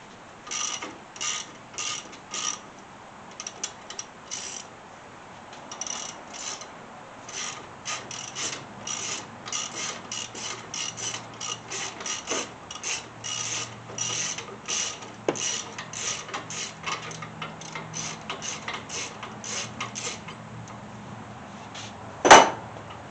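A ratchet loosening strut bolts on a 2012 Mustang GT: rapid bursts of clicking pawl strokes in quick rhythmic runs, close and clear, with a sharp clank near the end and no speech.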